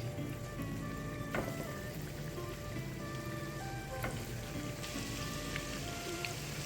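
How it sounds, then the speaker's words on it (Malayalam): Chicken cheese balls frying in hot oil, a steady, even crackle and sizzle like light rain with a few sharper pops, continuous and fairly faint. "നല്ലപോലെ ഒരു സൈഡ് ഫ്രൈ ആവട്ടെ"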